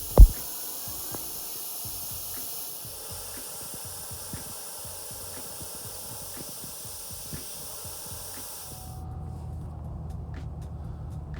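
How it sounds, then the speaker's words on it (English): Air hisses steadily out of a vehicle tire being deflated, a continuous close broadband rush with a sharp thump at the start, then stopping abruptly near the end as a low rumble takes over. "the next step was letting out the air in the tires"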